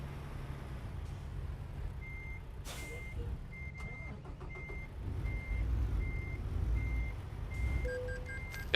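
Truck reversing alarm in American Truck Simulator, a steady evenly spaced run of beeps over a low diesel idle rumble while backing up, with a hiss partway through.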